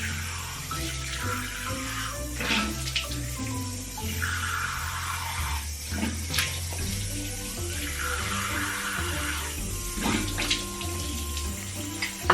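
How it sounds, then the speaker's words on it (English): Tap water runs into a sink while someone rinses their face, a steady close stream broken by splashes and slaps as hands scoop water up, with no talking. "let me rinse my face off"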